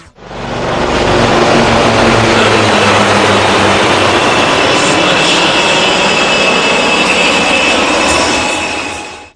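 Indian Air Force helicopters roaring low overhead during an aerial display at Jamnagar, a loud, sustained engine and rotor drone that swells in quickly, holds, then cuts away.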